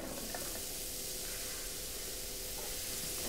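Two cups of onions sautéing in olive oil, a continuous close hiss of sizzling with light stirring, no voices.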